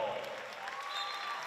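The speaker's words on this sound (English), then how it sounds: "Gets a round of applause" A crowd applauds at a WNBL women's basketball game between the Sydney Flames and Perth Lynx, a brief steady wash of clapping from the arena stands.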